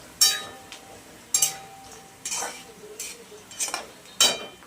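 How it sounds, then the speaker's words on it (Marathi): Grated coconut is roasted in a pan until it turns red, and a spatula scrapes and stirs it. Several sharp metallic scrapes and clinks come at uneven intervals over faint background noise. "खोबरं असं लाल होईपर्यंत भाजायचं"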